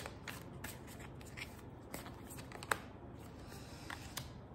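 Oracle of Inanna cards shuffled by hand, a steady soft riffling with a few sharper clicks and snaps, close and fairly quiet, no voice.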